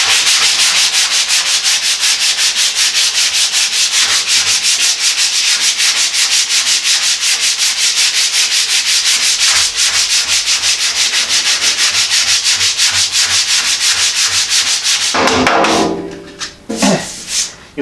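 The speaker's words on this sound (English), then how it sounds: "I gotta keep sanding." Steady, loud hand sanding of Evercoat body filler on a Model A hot rod truck cab, a continuous rhythmic scraping rasp of strokes that runs for many seconds before breaking into a few scattered rubs and knocks at the end.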